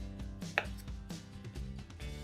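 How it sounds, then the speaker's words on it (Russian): Knife chopping baked beetroot into small cubes on a cutting board, a steady series of close, crisp thuds in quick rhythm with no talking. "Запеченную свеклу нарезаем пластинками, а затем небольшими кубиками."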